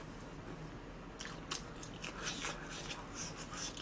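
Burger King french fries being chewed close to the mouth produce soft, irregular crunches and bites over a quiet, hissy background, with no talking.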